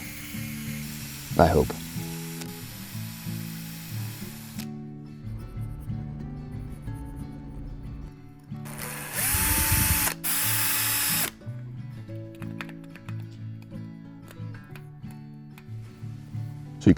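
Notches are carved into a wooden largemouth bass swimbait lure, giving intermittent rasping and buzzing tool bursts, with a loud sustained stretch midway over steady background tones and a brief spoken remark.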